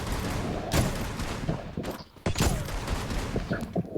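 Gunfire in the Free Fire battle-royale game: sharp shots and short automatic bursts crackle over a busy, noisy background, a couple of louder bangs standing out, with no talking.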